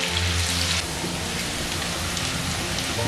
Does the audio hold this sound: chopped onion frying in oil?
yes